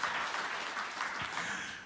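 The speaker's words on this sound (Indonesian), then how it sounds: "Tepuk tangan yang meriah bagi Tuhan Yesus" A church congregation claps in praise during a sermon, a soft, distant wash of many hands, steady and fairly faint, with no voices over it.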